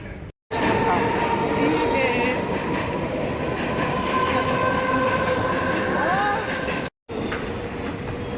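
A train rumbles steadily close by at a railway station in Mumbai, with rhythmic wheel clatter and a faint metallic squeal, broken by two brief dropouts.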